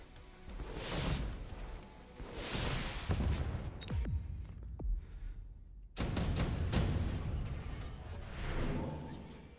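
Repeated heavy booms and thuds of cannon fire in the Mechabellum strategy game, a dense battle barrage rolling in waves across the clip with a short lull midway, fairly loud but mixed with other combat noise.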